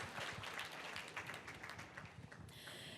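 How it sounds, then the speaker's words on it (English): Audience applause for the Governor of Sindh, a quiet, distant patter of many hands clapping that thins toward the end, with no talking. "please give His Excellency a big round of applause"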